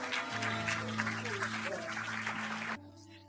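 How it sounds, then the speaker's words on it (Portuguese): A church audience gives a short round of applause for a preacher's baby son, steady clapping over a low sustained organ-like tone that cuts off abruptly near the end. "Vamos dar uma salva de palmas para o filho."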